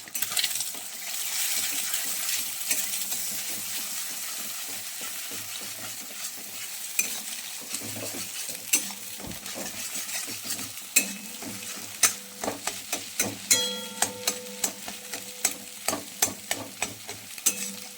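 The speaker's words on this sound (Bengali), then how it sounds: "গরম হয়ে গেছে, এবার ডিমটা দেব।" An egg fries in a hot pan and is stirred, a steady close sizzle broken by sharp scraping and tapping clicks of the spatula that grow more frequent toward the end.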